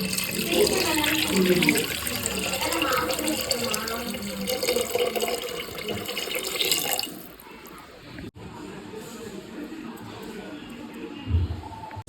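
Water pours steadily into a pot of fish curry for several seconds, then stops, leaving a quieter room with a brief knock near the end.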